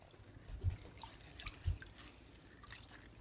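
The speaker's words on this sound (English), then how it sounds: "and then we add the water into the multi-purpose steamer" Water poured into a microwave multi-purpose steamer, faint liquid trickling and dripping with two soft low thumps, quiet and close.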